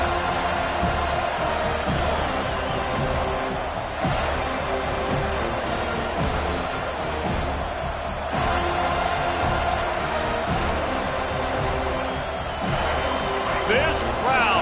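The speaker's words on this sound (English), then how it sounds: "This crowd, full throat, spreading the eardrums and letting them know it's going to be a long day." Football stadium crowd roaring in full voice after a touchdown drive and kickoff, a dense, continuous wash of cheering with scattered sharp claps and thuds, while a commentator talks over it.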